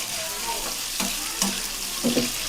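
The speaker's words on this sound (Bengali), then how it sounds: "এখানে আলুটা প্রথমে লবণ দিয়ে ভেজে নিব" Potatoes frying in a pan with salt for a chicken-and-potato curry give off a steady close sizzle, broken by a few soft stirring knocks and scrapes.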